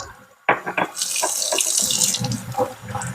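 A measuring cup used for dry ingredients is rinsed under a kitchen sink tap: after a brief near-silence, clunks and handling knocks come first, then water gushes in a loud, close splashing stream that shifts as the cup moves.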